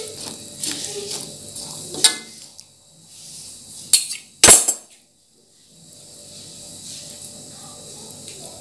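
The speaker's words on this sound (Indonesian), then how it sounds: "Ada jagung, wortel, dan terong. Kita masukkan semuanya. Kita aduk." Corn, carrot and eggplant being stirred in a pot of sayur lodeh: scattered scrapes and a few sharp clinks of a utensil against the pot, with a soft bubbling bed between.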